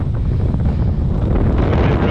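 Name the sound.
strong wind on a mountain summit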